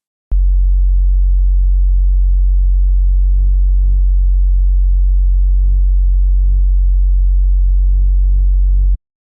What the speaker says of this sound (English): I started off with an analog sine wave with some wavetable position modulation and some fine frequency modulation